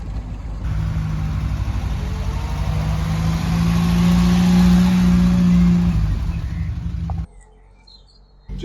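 A classic Triumph Roadster engine burbles steadily at close range, swelling slightly mid-way, then dropping to a quieter idle near the end.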